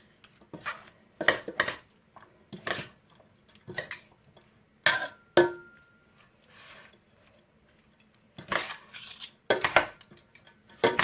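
Cabbage salad with dried fruit being stirred in a bowl, the utensil clacking and scraping in irregular bursts against the bowl with short pauses between, close and fairly loud.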